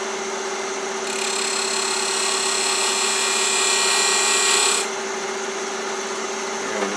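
A wood lathe turns a ring holder blank while a turning tool cuts the wood, giving a steady loud whir with a brighter, harsher cutting scrape through the middle, stopping after a few seconds while the motor keeps running.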